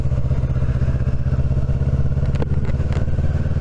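A motorcycle fitted with a DNA filter and a Scorpion end can exhaust, heard while riding. It gives a loud, steady, close engine drone with a rapid, throbbing exhaust pulse. There is a brief rattling clatter near the end and no talk.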